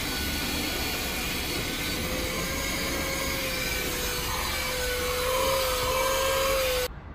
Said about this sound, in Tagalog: Pero vacuum lang naman yan mabilis.